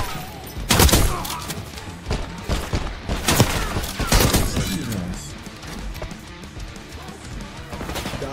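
Gunfire in Black Ops 6 beta multiplayer: sharp, loud bursts of shots and impacts cluster in the opening seconds, then continue as a busier, lower-level clatter of game combat noise.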